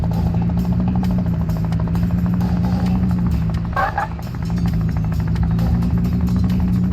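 Helicopter in the video game Thief Simulator 2, a steady low rotor drone holding loud and continuous throughout, with a brief dip near the middle.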